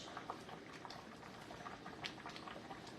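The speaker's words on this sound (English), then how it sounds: "it doesn't take no time to cook the spinach" Spinach cooking in a pot on a stove, a steady low bubbling and simmering hiss that runs continuously throughout with small pops and crackles, fairly quiet and close, with no talking.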